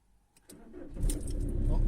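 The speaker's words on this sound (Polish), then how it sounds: "Ja odpalam samochód i będziemy jechali." A 2005 Seat Ibiza 6L with a 1.9 SDI diesel engine cranks briefly, then catches and settles into a loud, close idle rumble after a faint jingle of keys.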